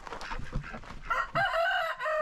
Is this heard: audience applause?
no